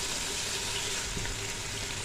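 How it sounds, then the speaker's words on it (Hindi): Water is poured into a cooking pot to rinse it after a yogurt and dried fenugreek mixture, a brief steady rushing splash heard close up with no talking. "थोड़ा सा पानी डालूँगी बर्तन को साफ़ करने के लिए"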